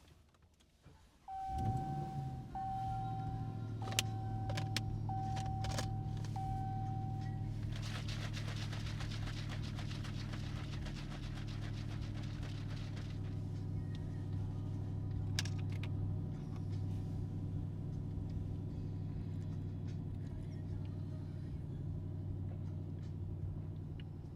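A car drives with a steady, low engine rumble and road noise from inside the cabin. There are a few faint clicks and a short electronic tone near the start.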